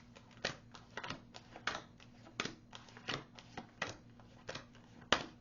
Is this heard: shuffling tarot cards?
yes